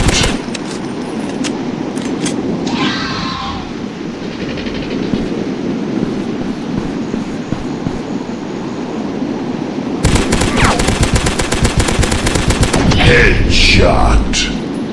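Gunfire in a dinosaur hunting video game, a steady stream of rapid shots over continuous loud game noise, growing denser and more rattling in the final seconds.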